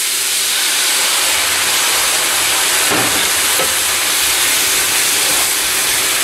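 Sweet white wine hits a hot pan to deglaze it while cooking porchetta, giving a loud, steady hiss and sizzle close by that holds throughout.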